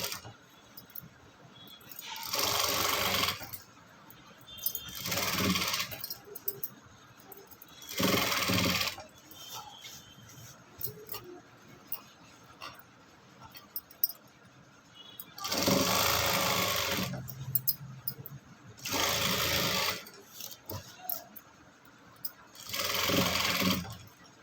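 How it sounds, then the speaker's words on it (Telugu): Domestic sewing machine stitching a folded frock seam, running in several bursts of a few seconds each with short pauses between, close and fairly loud, with a voice speaking in the gaps. "ఇలా మడిచేసి ఒక కుట్టు వేసేసుకుందాం."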